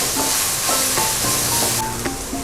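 Ginger garlic paste frying in a pan for vegetable pulao, stirred with a utensil, giving a steady close sizzle with soft rhythmic scraping taps.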